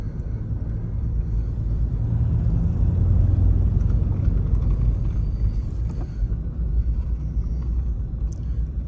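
A 1941 Cadillac Series 67 limousine idles with a steady, smooth low engine rumble, close and continuous with no talking.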